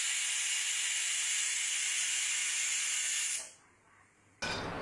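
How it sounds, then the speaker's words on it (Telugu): A pressure cooker cooking mutton hisses a steady, loud, bright stream of steam, then cuts off abruptly and resumes a moment later, with no voices. "కుక్కర్ పెట్టేసుకుందాం. 6 to 7 విజిల్స్ వచ్చేంత వరకు మనము వెయిట్ చేద్దాం."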